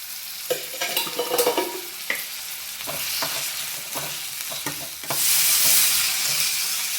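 Tomatoes cook in oil in a pan, a steady frying sizzle punctuated by scattered stirring knocks, growing louder and hissier toward the end.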